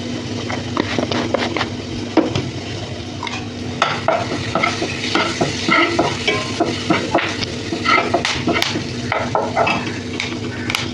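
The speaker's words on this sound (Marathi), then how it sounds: "मस्त फोडणी दिली त्याला हिंग वगैरे टाकून" Coarse chili, cumin and asafoetida crackle and sizzle in hot oil, with steady frying hiss and scattered pops and stirring scrapes throughout, close and fairly loud.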